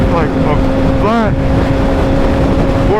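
Kawasaki ZX6R motorcycle engine on a mountain ride in Colorado, a loud, steady high-revving drone close to the rider with wind noise, and someone talking over it throughout.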